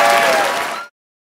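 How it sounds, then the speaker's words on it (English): Studio audience applauding for the comedy show host Josh Johnson, a loud dense burst of clapping close by that cuts off abruptly after under a second. "Make some noise for your host."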